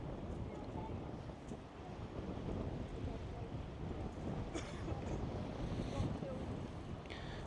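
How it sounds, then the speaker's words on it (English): Wind blows steadily on an East Sussex beach, buffeting the microphone with a low, rough roar, and faint surf sounds mix in beneath it. "Get away from the wind."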